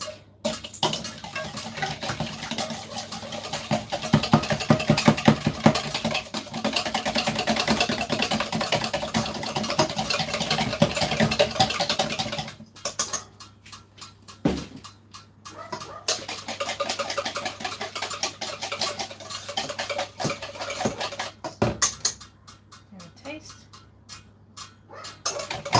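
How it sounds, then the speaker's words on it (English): Rapid whisking of turkey in a bowl for a Ghanaian dish, a steady, dense ticking patter near at hand for about twelve seconds, then quieter intermittent scraping and clinks with pauses. "And then I'm gonna whisk."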